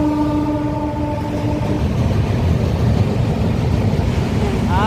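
A train rumbles steadily across a railway bridge near a river barrage, its heavy continuous roar filling the scene, with brief horn-like tones early on and wind or water noise around.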